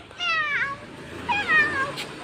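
A cat meows twice close by, each a drawn-out, wavering cry, the second one longer and louder than the first.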